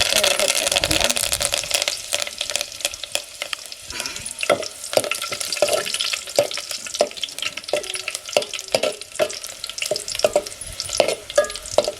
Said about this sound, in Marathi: तेल मस्त तापलंय. लसूण घालते.